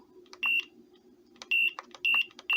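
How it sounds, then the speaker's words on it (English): Close electronic beeps from a cooker timer: a single beep, then three more in a steady row, with faint clicks between them. "I'm going to set the timer for 4 hours."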